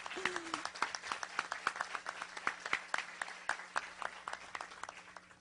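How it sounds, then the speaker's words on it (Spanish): A university audience claps in a fairly sparse, uneven patter of individual hand claps, moderately near, with a faint hum and a brief voice near the start. "Un aplauso para ellas."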